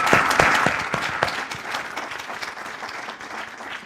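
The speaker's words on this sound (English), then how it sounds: "I'd like to do a round of applause for Aline because she pulled us off together." An awards-ceremony audience applauds the organizer Aline, with a burst of sharp, close claps at the start that settles into steady, dense clapping across the room.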